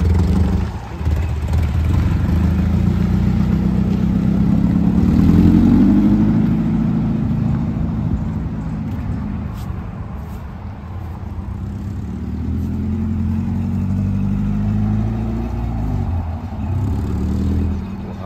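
A 1994 Mazda Miata engine runs steadily while the clutch is eased in, a low continuous drone that swells and rises in pitch mid-way before settling, close and loud with no talking.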